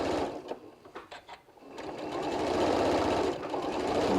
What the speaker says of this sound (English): I'm going to continue to sew a little bit further